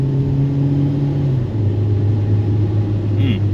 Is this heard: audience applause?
no